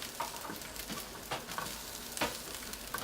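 Shrimp frying in a new wok, a soft steady sizzle broken by repeated scraping stir strokes, fairly quiet and without voices.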